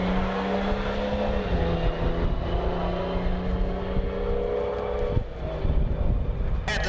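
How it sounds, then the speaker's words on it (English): Diesel BMW car running a pass on a drag strip at a race-week event, a loud steady engine drone with a falling tone as it shifts, continuous and close throughout. "Diesel BMW."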